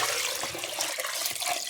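Water splashes steadily into a pot for boiling herbal leaves, a short continuous pour heard close up.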